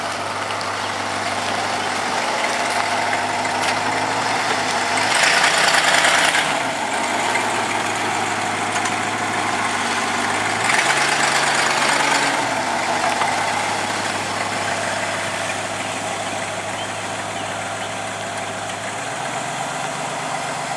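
A green Chevrolet truck's engine idles steadily up close, a continuous low rumble with two brief revs partway through.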